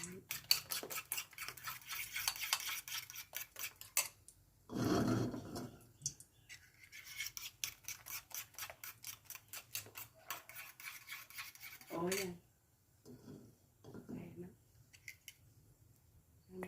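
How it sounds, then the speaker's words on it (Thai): Eggs being beaten in a bowl for a Thai omelette: fast, close rhythmic clinking of a utensil against the bowl, pausing between runs, with someone speaking at times. "เดี๋ยวเราก็จะมาลงมือ เจียวไข่กันเลย"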